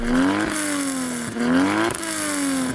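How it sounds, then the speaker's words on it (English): A 3-litre turbocharged car engine revs hard twice, its pitch climbing and dropping in loud, close bursts with no talking over it. "Let's have a listen to your 3-litre turbo engine."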